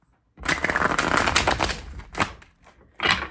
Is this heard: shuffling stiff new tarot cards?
yes